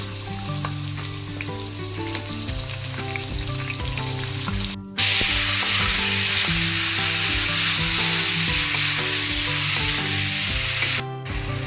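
Onions with whole garam masala, cloves and peppercorns fry in oil for a duck curry. A dense, continuous sizzle becomes even louder and brighter partway through, with faint stirring underneath and no talk.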